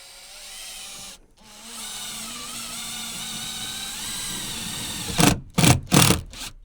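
A power drill whines steadily, driving screws through pre-cut felt panels into the wall of a Ford Transit van, a near continuous motor drone with a short pause, then several short forceful bursts as the screws seat.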